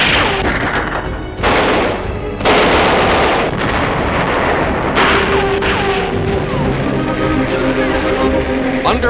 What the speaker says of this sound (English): A tank hits a Japanese mine.